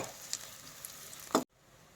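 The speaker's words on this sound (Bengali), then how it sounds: "এখন পেঁয়াজটা এর মধ্যে ভালো করে নেড়ে নেব বাদামি রং হওয়া পর্যন্ত।" Chopped onion and green chili fry quietly in a pan for a home-style chicken and potato curry, a faint steady sizzle broken by a soft stirring clack just before the sound cuts off.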